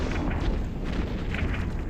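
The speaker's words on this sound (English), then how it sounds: "that was a very nice explosion" A ship blowing up in the space game EVE Echoes, a sustained, loud, rumbling explosion with dense low-end roar and crackle that holds steady for about two seconds, with no talk over it.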